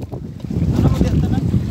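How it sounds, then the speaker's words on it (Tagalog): Strong, gusty habagat monsoon wind roars steadily across the microphone, with low rumbling buffeting and a faint voice briefly in the mix. "At dito ka banda kasi lakas ng hangin."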